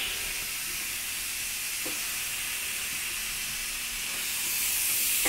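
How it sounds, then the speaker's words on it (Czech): Steady broadband hiss of escaping air from a hobby plasma cutter under repair, continuous and fairly loud, swelling slightly toward the end with a few faint clicks. "Ale počkej, už to syčí míň."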